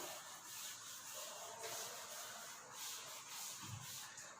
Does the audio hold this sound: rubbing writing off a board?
yes